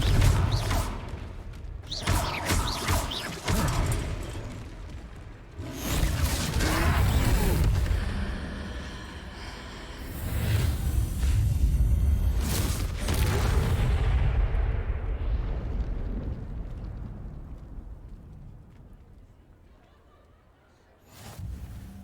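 A Confringo fire spell in the Hogwarts Legacy video game blasts out in booming explosions, with several heavy rumbling bursts and crashes across a battle scene that fade into a long, dying roar, loud and close.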